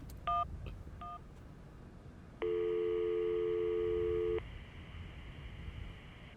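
Touch-tone phone dialing in the video game Syberia: two short keypad beeps, then a sustained steady tone of about two seconds, clear and fairly loud over a quiet background hum.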